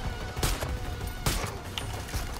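Gunfire in the video game Far Cry 5: two sharp, loud bursts about a second apart over a low rumbling game background, with no talking.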